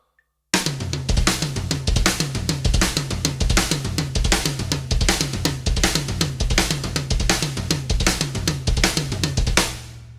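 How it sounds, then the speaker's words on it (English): Drum fill played on a kit with double bass drums, the paired kick notes squashed together, a dense continuous roll of snare, toms and cymbals with thudding kicks for about nine seconds, loud and close, no talk. "sometimes we have a tendency to squash those 2 bass drum notes that just sound terrible."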